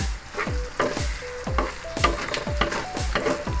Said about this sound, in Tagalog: Ganito lang guys magluto ng sisig.